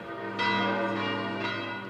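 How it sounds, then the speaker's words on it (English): Church bells ringing in St. Peter's Square, Vatican City, for a canonization ceremony, two rich resonant strikes swelling over a sustained ringing hum, loud and full. "the bells in St. Peter's Square again rang out, calling pilgrims gathered from all over the world to the canonization ceremony"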